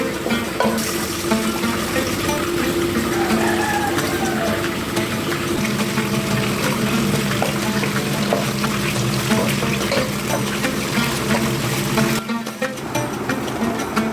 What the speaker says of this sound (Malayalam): ചെറുതായി ചൂടാക്കി കഴിയുമ്പോൾ ആവശ്യത്തിനുള്ള വെള്ളം ചേർക്കാം